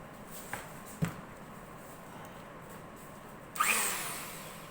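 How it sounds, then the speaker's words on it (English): An electric planer switches on for a canjo build in a quiet workshop: a couple of faint knocks first, then the motor whines up loudly near the end. "okay, so plug in my planer"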